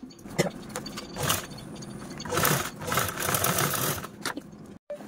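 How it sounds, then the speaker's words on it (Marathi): A sewing machine stitches the open part of a homemade bag in several short bursts of rapid, rattling clatter separated by brief pauses, close and loud, ending with a sudden stop. "आता हा जो ओपन पार्ट ठेवला होता आपण राहिलेला, तो पण आपण स्टिच करून घेऊया"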